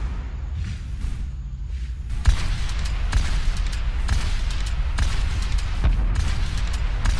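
Booming fireworks bursts in the Overwatch video game, a dense, continuous barrage of heavy thuds and crackles with sharper loud blasts standing out every second or so, no voices.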